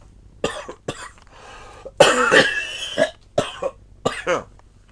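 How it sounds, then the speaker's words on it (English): A bout of harsh, close coughing, several bursts in a row with a longer rough fit in the middle, then a few more coughs. "I just had a very bad coughing fit"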